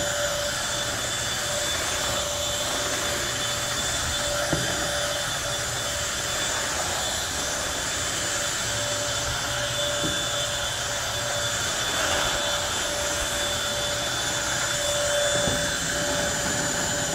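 A Bissell 3-in-1 turbo vacuum cleaner runs in a hotel room, giving a loud, steady motor whine and rushing airflow that holds unbroken and close throughout, with faint bumps of the head moving across the floor.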